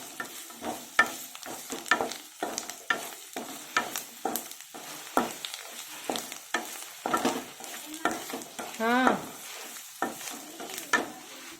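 Garlic fries in oil for a spicy puffed-rice snack, a close sizzle chopped up by quick, repeated scraping strokes and clatter as it is stirred around the pan. The strokes come in an uneven rhythm, with no talking.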